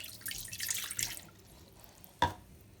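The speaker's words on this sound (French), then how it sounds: "il va falloir mettre l'eau tiède" Lukewarm water is poured into a Thermomix bowl for lahmacun dough: a brief, close splash lasting about a second, then a single sharp clink after a short pause.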